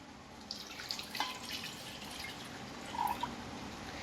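Water is poured into salted water for millet flatbread dough, giving faint trickles and a few small splashes and drips close by in a quiet room.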